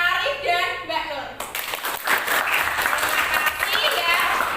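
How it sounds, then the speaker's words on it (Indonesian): A classroom group claps for two students, a short burst of scattered hand claps that starts after a voice and continues under talk. "tepuk tangan untuk Mas Arif dan Mbak Nur"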